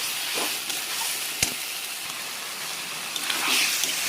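A green paste of coriander, garlic, chilli and ginger sizzling in a hot pan, with a steady bright hiss and a few soft clicks and scrapes as it is stirred.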